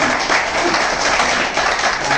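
Dense, steady applause from an audience at a World Health Day event in Indore, a broad wash of clapping filling the whole stretch with no voices standing out.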